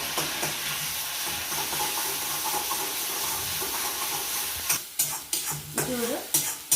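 Cinnamon, a cardamom pod and spices roast in two spoonfuls of ghee for a radish leaves dal, giving a continuous close sizzle, with stirring scrapes and clatters toward the end.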